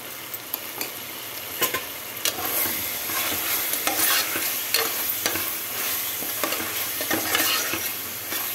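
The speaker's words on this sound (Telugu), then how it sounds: "అల్లం వేగింది. పచ్చిధనియాల పొడి, అల్లం వేగింది." Ginger fries in hot oil with coriander powder while a spoon stirs it in a pan, a steady close sizzle broken by frequent scraping clicks, with no talking.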